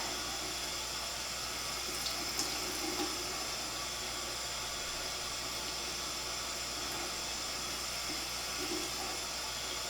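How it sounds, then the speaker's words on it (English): Steady faint trickle of tap water running while soap is rinsed off lash extensions, a continuous low wash with no voices. "And then I just paint with the water to get the soap off."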